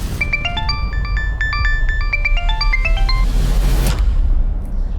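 A phone's ringtone melody of bright stepped electronic tones plays for about four seconds over low background hum, then stops.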